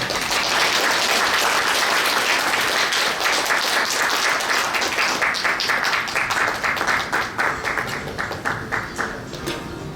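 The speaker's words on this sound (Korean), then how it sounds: "모두 큰 박수로 맞이해 주시기 바랍니다." Audience applause at a New Year's gathering of a civic association, dense and sustained clapping from a large crowd that slowly thins toward the end, with single claps becoming distinct.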